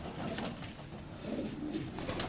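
A young Janssen racing pigeon coos in a loft, soft low warbling murmurs repeating over a faint rustling background, with no voices.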